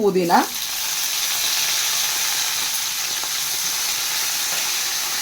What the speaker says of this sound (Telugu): మంచి కడాయిలో నూనె పోసుకొని కొంచెం గరం అయినాక పచ్చిమిరపకాయలు వేసుకోవాలి.